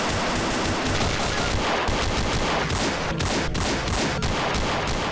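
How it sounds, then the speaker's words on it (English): Dense, continuous gunfire from a .50 caliber gun and .357 revolvers in the game I'm Afraid of Monsters, with sharp shots crowding into a loud, steady barrage for the whole stretch. "I've been blasting away a lot of my problems with a 50 cal and a side of 357s"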